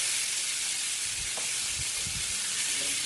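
Country style pork ribs sear in a hot pan with a steady, loud broadband sizzle and hiss, plus a few faint knocks and shifts in the background.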